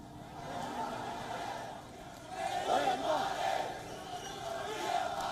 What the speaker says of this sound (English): The crowd engaged in tense standoff with security forces for nearly 2 hours